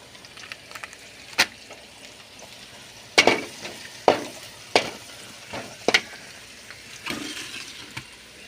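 Turmeric fries in oil in a pan while making chicken pallipalayam, giving a soft sizzle with occasional sharp crackles and stirring scrapes, close by and without talk.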